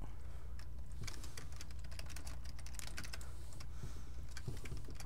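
Rapid, irregular clatter of computer keyboard typing, close and steady for several seconds with no voices.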